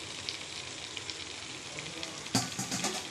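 Drained soaked rice frying with potatoes for chicken biryani gives a steady, close sizzle, then a spoon stirs and scrapes through the pot in a louder burst near the end; no one speaks.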